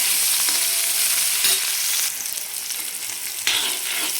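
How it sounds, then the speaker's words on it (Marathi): Large chopped onions frying in hot oil with cumin and a pinch of asafoetida on a griddle, a steady close sizzle with stirring swells, no speech. "आपण हे 2 मोठे कांदे असे मोठे मोठे कट केलेले आहेत ते टाकणार आहे."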